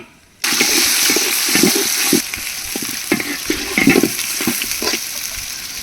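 Onions drop into hot oil with whole cinnamon and cardamom for a jackfruit-seed pulao: a sudden loud sizzle bursts in after a short quiet moment, then a steady hiss broken by scraping stirs and clinks of a utensil.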